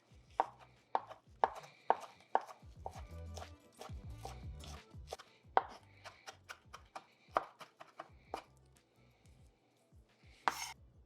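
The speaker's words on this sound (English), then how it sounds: "first let's chop up some parsley" Parsley is chopped with a knife on a cutting board: a run of sharp, irregular thuds and clicks, close and fairly quiet, with brief pauses between bursts.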